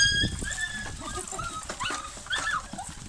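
Seven-week-old puppies whimper, yip and bark in rapid, overlapping bursts close by, a busy high-pitched chorus throughout with a person's voice mixed in among them.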